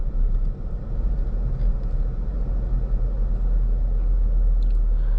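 Cabin rumble from a 2020 Jeep Grand Cherokee Upland SUV on the move: a steady, low road drone with engine hum, continuous and even, with no voices.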